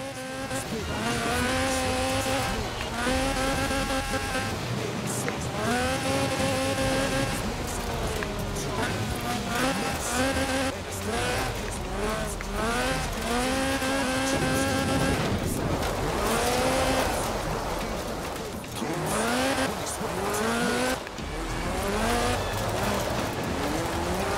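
A 1979 Lotus Sunbeam races in Forza Horizon 4, its engine revving and shifting through gears in rising and falling whines, with tire squeal, loud and continuous under a narrating voice.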